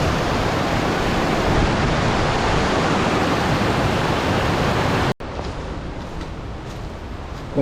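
The Cachoeira do Meio waterfall near Ipoema, Minas Gerais, roars as a loud, dense, steady rush of falling water, then abruptly cuts to a softer, more distant wash.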